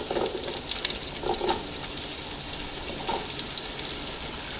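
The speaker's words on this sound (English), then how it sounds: "we're frying the onion" Chopped onion frying in a pan for a vegan Korean jjajang black bean sauce, a steady close hiss of sizzling with faint crackles and a few soft clinks, no talking.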